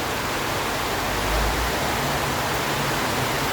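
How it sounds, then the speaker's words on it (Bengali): Heavy rain pours on a flooded road in Sylhet where trucks sit stuck in the water, making a dense, unbroken roar of falling water, loud and close with no voices. "সন্ধ্যার পর থেকে এরকম ঝুম বৃষ্টি শুরু হয়েছে"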